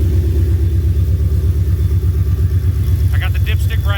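Ford Mustang engine idling as it warms up to temperature, a loud, steady low rumble throughout, with a brief higher rattling or squeal near the end.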